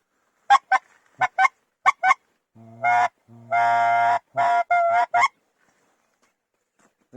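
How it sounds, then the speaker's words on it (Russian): A greater white-fronted goose calls in a series of loud, nasal honks: short clipped notes at first, then longer drawn-out yelping calls, close by and alone, in the Komi Republic in May. "Это белолобик."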